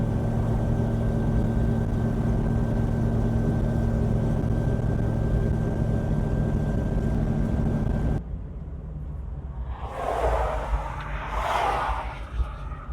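An LS-swapped Chevrolet K5 Blazer cruises with a steady, loud engine drone, then the tone drops to a quieter rumble with rustling noise near the end.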